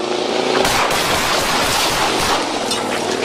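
Dense, noisy gunfire crackles in a rapid, overlapping burst during a police encounter with a vehicle, loud and harsh throughout, with no clear gaps between shots.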